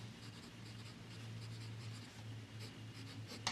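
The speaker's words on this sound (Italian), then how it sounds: "mi accorgo proprio di come la mia stilografica scrive proprio correttamente" A Kaweco fountain pen with a medium nib, filled with Waterman Intense Black ink, scratches steadily across paper in soft continuous strokes, close and quiet, with a low steady hum in the background.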